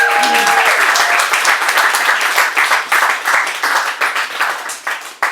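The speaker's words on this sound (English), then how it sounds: "Make some noise for Kate Molloy!" A comedy club crowd breaks into loud applause with scattered cheers at the start, the clapping continuing steadily and gradually thinning out.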